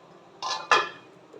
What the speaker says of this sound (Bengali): দেখো, আমি ঢাকাটা খুলে দেখব